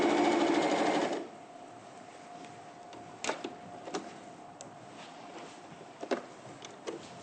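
A sewing machine stitches a long seam in a sewing studio, running steadily for about a second before stopping, followed by quiet clicks and handling noises.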